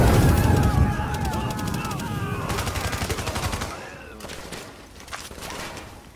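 Video game weapons fire in a police tactical mission, with rapid bursts of gunshots crackling loudly at first, then thinning into scattered, more distant shots and mechanical clatter.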